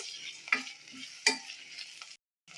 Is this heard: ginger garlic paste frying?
yes